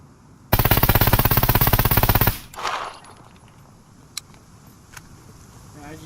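An Mk18 rifle in the game Scum fires one rapid continuous full-auto burst of about two seconds with no recoil control, loud and close, followed by a brief rattle and a few faint clicks.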